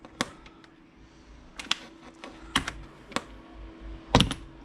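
The plastic air filter box on a 2011 BMW 1 Series 114d, 95 hp engine, is pried open, giving a handful of sharp, close clicks and snaps at irregular intervals over a quiet background.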